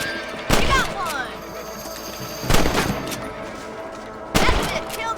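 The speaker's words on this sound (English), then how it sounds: "Kill those little varmints. Better at shooting rabbits than outlaws, I see." Rifle shots ring out while hunting rabbits in the video game Red Dead Redemption, three loud, sharp blasts spaced about two seconds apart, each trailing off in a short echo, with no voices over them.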